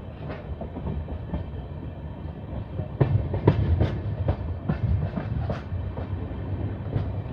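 The Lalkuan–Howrah passenger train rolls steadily along the rails, a continuous rumbling drone broken by repeated clickety-clack wheel beats over rail joints, heard from on board without talk.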